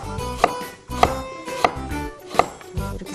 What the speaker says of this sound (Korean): 두껍지 않게 한 2mm 정도 두께로 이렇게 어슷 썰기를 하겠습니다